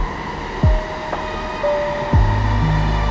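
Train rolling along tracks through snow on the Trans-Siberian Express, a continuous low rumble with two sharp clanks from the rail joints and thin metallic squeals, heard close and fairly loud.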